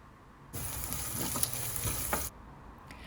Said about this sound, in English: dried red chilies, giving that a good mix, adding in some peanuts